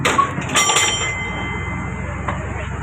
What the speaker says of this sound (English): Wait for the bell and you can exit to your right.